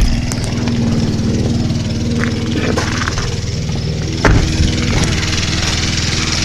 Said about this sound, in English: Guy's mowing next door.